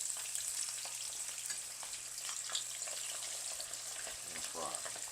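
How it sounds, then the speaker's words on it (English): Pieces of beltfish frying in hot oil in a pan at about 350 degrees, a steady close sizzle and crackle running throughout with a few brief stirring or shifting sounds near the end. "Now we're going to let these fry"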